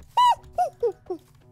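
Dog whimpering in Minecraft: four short, high whines, the first loudest and the later ones falling in pitch, heard clearly with no speech.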